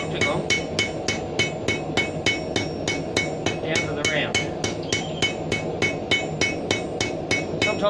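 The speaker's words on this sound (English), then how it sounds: "We tap with our hammer to take it from the octagon" A blacksmith's hammer taps hot steel on an anvil while an octagonal bar is rounded off, giving evenly spaced, ringing metallic strikes at a brisk steady rhythm, close and loud, with a brief word spoken amid the blows.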